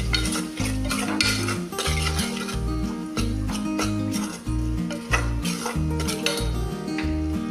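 Onions with coriander powder, red chilli powder and turmeric are stirred in oil in a pan for Maggi-style rice, giving repeated scraping and spoon clinks against the metal over steady background music.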